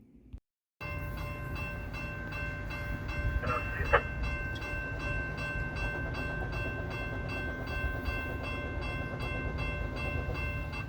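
Freight train NS 283, led by three BNSF GE GEVO locomotives, rumbles steadily past in Spartanburg, South Carolina, with a loud, continuous roar, rhythmic wheel clatter and a brief metallic squeal, heard up close.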